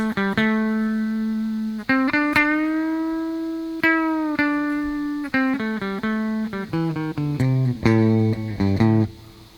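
An electric guitar through a Two Notes Torpedo plays sustained notes and then quicker picked phrases, each ringing out with a lingering reverb tail, loud and alone.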